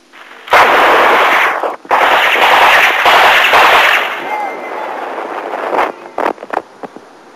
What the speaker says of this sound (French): un premier coup de feu, puis d'autres,